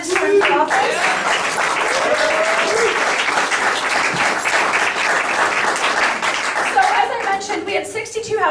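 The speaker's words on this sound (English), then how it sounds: "a big round of applause to all the candidates." Crowd applause for political candidates at a West County campaign office opening, loud sustained clapping from a packed room lasting several seconds, with a few voices and light laughter mixed in before it tapers.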